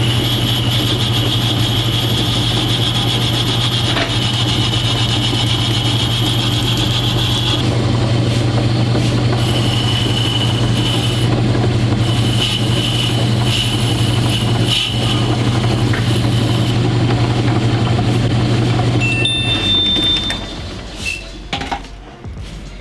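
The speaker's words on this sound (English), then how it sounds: "I'm just gonna do a quick little face, and then I'm gonna hit it with the boring bar." A metal lathe faces the end of a center-drilled workpiece, then cuts with a boring bar, giving a steady machine drone and metallic cutting whine that runs continuously before shifting partway through and tapering off near the end.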